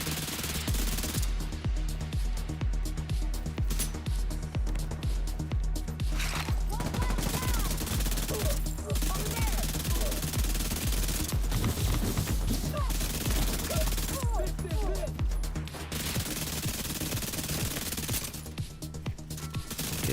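Sustained automatic gunfire in The Division 2 rattles loudly in long dense bursts with brief gaps, ongoing for about twenty seconds, with little speech beneath.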